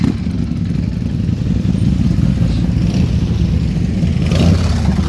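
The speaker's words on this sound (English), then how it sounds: "Got the sport bikes coming through. Ducati Panigale." Sport motorcycles, including a Ducati Panigale, rumble past at a rally, a steady loud engine drone with a rising surge near the end.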